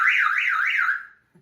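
Mitsubishi Evo 8 car alarm sounding close by: a loud warbling siren tone sweeping up and down in three quick cycles, then cutting off abruptly.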